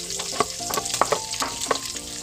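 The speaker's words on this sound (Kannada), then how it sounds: "ಇದನ್ನು ಸ್ವಲ್ಪ ಫ್ರೈ ಮಾಡಿಕೊಡಬೇಕು" Capsicum and carrot fry in hot oil for street-style noodles, giving a steady, close sizzle broken by several sharp clinks of a spoon against the pan.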